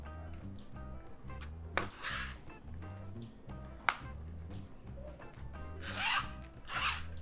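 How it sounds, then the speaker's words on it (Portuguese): Bookbinding thread is pulled through punched holes during Coptic stitch sewing, giving soft rubbing drags and zipping rasps close by, with two sharper tugs and longer pulls near the end. "Puxa toda a linha."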